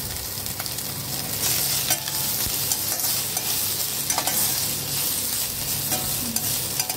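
Dried loitta fish frying in a pan with salt, stirred steadily, giving a continuous loud sizzle broken by repeated scraping and clinking of the spoon, heard alone without talk.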